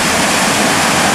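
Mountain creek water rushing steadily, a dense broadband wash filling the whole moment with no pauses, close and loud, with no voices.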